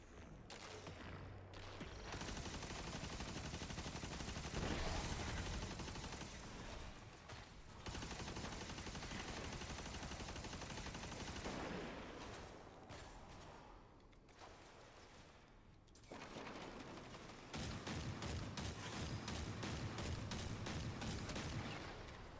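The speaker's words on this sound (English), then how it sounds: "I see him shooting at me. It's a sniper." Sniper gunfire in the Destiny 2 video game: dense, loud volleys of shots crack almost nonstop through the clip, broken by a few brief lulls, with no talking.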